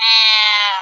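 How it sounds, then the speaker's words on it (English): A pet cat lets out a loud, sustained howl lasting nearly a second, close to the microphone, with a steady, strained tone that fades slightly at the end; no one speaks over it. "my cat was howling"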